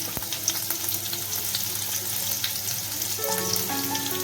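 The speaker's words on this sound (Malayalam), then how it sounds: "അതിൻ്റെ ഒപ്പം തന്നെ പച്ചമുളകും ഇട്ട് കൊടുക്കണം" Green chillies and garlic fry in oil in a pan for fish noodles, a close, steady sizzle with light crackling and some stirring, heard alone without talk.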